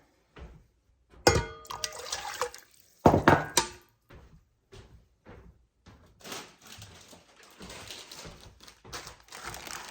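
Water poured into a pot for Spanish rice, with splashy bursts around the first few seconds, bumps and clatters between them, then a steady softer run of trickling toward the end.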